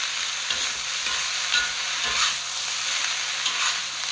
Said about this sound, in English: this is a wok cooking. We just do it all on high.